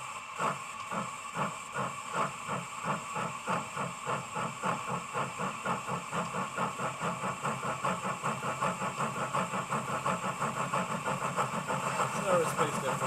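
An ESU model steam locomotive sound decoder with the throttle opened, giving a steady rhythmic chuff of hissing steam beats that quicken gradually over a constant mechanical hiss, sounding close and continuous.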